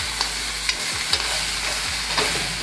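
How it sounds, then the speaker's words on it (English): Seasoned food sautéed in a pan, with a steady close sizzle and a few sharp scrapes as a utensil stirs it at irregular intervals, no talking. "Let me just saute it a little longer."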